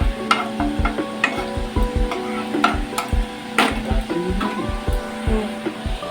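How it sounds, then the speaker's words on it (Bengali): Whole cardamom pods and cumin seeds sizzling in a hot pan while a spoon scrapes and stirs them in a steady rhythm of clinks and taps, close and fairly loud. "2টো এলাচ, দিয়ে দিচ্ছি 1 চামচ মতো গোটা জিরে। এবার এগুলোকে ভালো করে হালকা করে একটু নেড়ে চেড়ে নিচ্ছি।"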